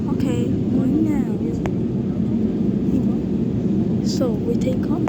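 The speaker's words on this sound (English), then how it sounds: "So we take off. This is airplane." An airplane takes off with a steady, loud engine roar that runs throughout, while voices talk over it.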